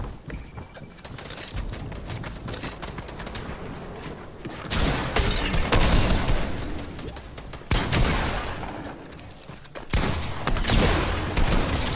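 Video game gunfire in a shooter with a Shockwave Launcher, several bursts of loud rapid shots and booms coming in waves over a busy background, no clear voices.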